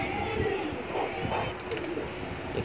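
Kaldum breed pigeons coo softly in a steady, low murmur, with several gentle coos rising and falling over continuous background noise.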